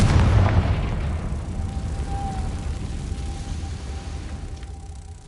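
A Confringo explosion spell from Hogwarts Legacy goes off with a heavy boom at the start, then rumbles away into a long, steady low roar with a thin ringing tone.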